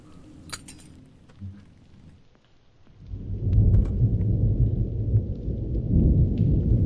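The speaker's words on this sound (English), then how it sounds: "when it's thundering outside" Thunder rumbles in the video game Prognostic, a murder-mystery ghost hunt, with faint clinks early on before a heavy, sustained roll of thunder and rain swells up and stays loud.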